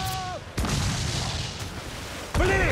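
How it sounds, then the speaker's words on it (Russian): Ship cannons fire a volley in Assassin's Creed IV Black Flag, two loud thundering bursts of roaring blasts close together, with in-game crew voices shouting briefly at the start and end. "Хороший залп нам поможет!"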